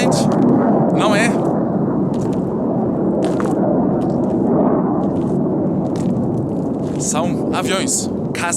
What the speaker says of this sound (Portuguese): São aviões, caças.